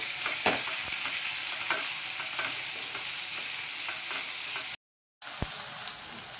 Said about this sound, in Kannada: ಫ್ರೈ ಆಗಿದೆ ಆನಿಯನ್ ಎಲ್ಲ ಆಯಿಲು ಸೈಡಲ್ಲಿ ಬಿಟ್ಕೊತಾ ಇದ್ದೆ